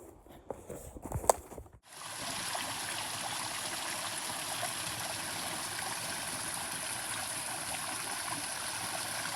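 A small mini waterfall on a hiking trail gives off a steady, even rush of falling water that stays constant for several seconds, preceded by a few brief footsteps and handling knocks.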